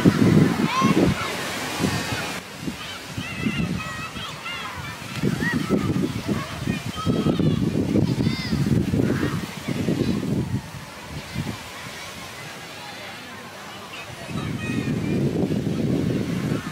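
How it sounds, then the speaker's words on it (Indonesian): Waves wash onto the beach at Glory Beach Resort in Port Dickson in repeated surges, loud and near, with wind buffeting the microphone and people talking over the surf. "saya berada di tepi pantai."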